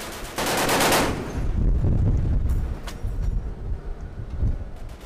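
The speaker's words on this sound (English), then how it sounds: ".50 caliber machine guns are also known as the MADUS. In this instance, they are mounted on JLTVs." A .50 caliber heavy machine gun mounted on a JLTV fires a loud, rapid burst lasting about a second, followed by a deep rolling rumble and a few scattered distant reports.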